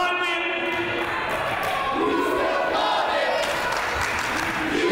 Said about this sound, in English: This crowd saying you still got it to Williams